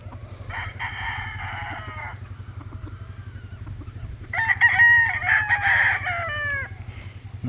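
Tethered Sweater gamecock stags crow in repeated long calls, two clear bouts with one louder and nearer, over a steady low hum of background noise.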